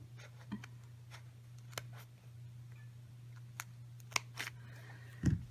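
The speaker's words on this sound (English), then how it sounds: "this is just my paper trimming scissors" Several crisp snips of scissors trimming nail wrap sheets, spaced irregularly over a quiet low hum, with a louder rustle at the end.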